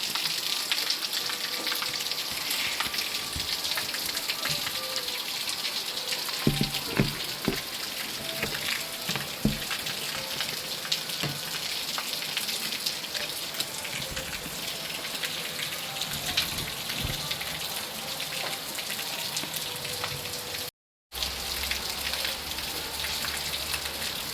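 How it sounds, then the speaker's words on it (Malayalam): Steady rain falls on surfaces outside a daughter's house in the morning, a dense continuous patter with scattered louder drops, alone with no talking. "മഴയാണ് മഴയത്ത്"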